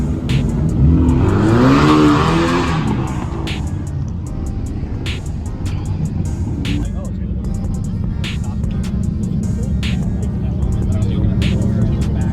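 A Chevrolet Camaro engine at an import car show swells in a brief rising rev that passes nearby, then settles into a steady low rumble under crowd noise, with people talking throughout.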